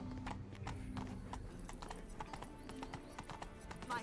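A horse gallops in The Witcher video game, rapid rhythmic hoofbeats clopping close and loud throughout, with a brief whinny-like snort and no talk.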